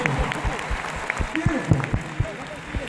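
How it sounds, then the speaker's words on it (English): Crowd clapping and cheering for teenage girls modelling prom dresses at an arena event, Winter Jam 2015, with a host talking over the sustained applause and music. "Clap for the ladies."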